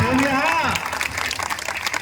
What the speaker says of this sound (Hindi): ये आपका प्यार है, ताली बजा करके स्वागत करें।